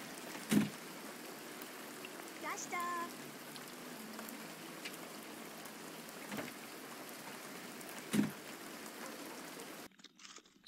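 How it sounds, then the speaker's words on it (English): Rain falls in The Sims 2 in the evening, making a steady soft patter with a few brief louder game sounds and no talking, before it cuts out near the end. "Raining evening, I see."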